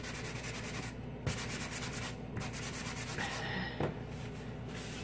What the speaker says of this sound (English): Okay, I'm just gonna rub down a little bit.